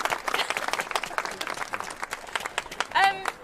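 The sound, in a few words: audience applause for Caroline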